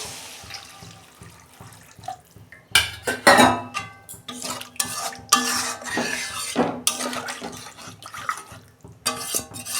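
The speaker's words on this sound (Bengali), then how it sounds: "আমি জল দিচ্ছি।" Water poured into a pan of fish curry with potatoes and cauliflower in a home kitchen, splashing and running in bursts with clinks of the pan and utensils, loud and close.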